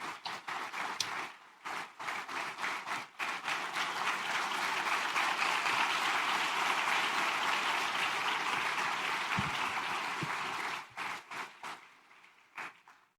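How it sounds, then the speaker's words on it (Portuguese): A church congregation applauds, with loud, dense, sustained clapping that builds quickly, holds steady for several seconds, then thins into scattered claps. "Vamos recebê-la com um aplauso imenso, com alegria e gratidão para com o nosso Deus."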